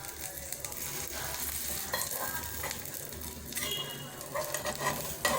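An omelette cooks in an oiled pan with a continuous soft sizzle and occasional scraping, fairly quiet and steady, no voices.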